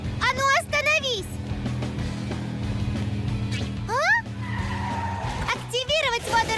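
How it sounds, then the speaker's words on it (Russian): A cartoon ambulance motorcycle races after a target, engine revving under squealing tire skids and rising siren-like whoops, while animated characters talk over the chase. "Мой мотоцикл скорой помощи четко отслеживает цель."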